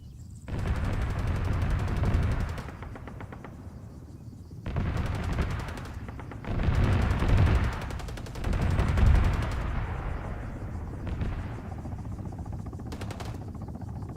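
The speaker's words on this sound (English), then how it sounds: "Those are Russian KAs, helicopters." Russian Ka-52 attack helicopters in combat bring loud, repeated bursts of heavy gunfire, several separate volleys with a rough mechanical drone in between.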